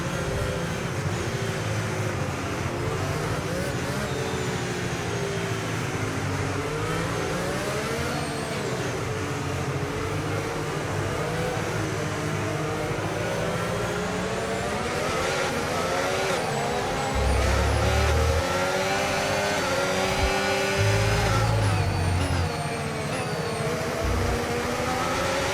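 Race cars in the F1 25 video game at Abu Dhabi accelerate together after a safety car restart, with continuous high engine whine rising and falling in pitch and a few lower rumbling bursts.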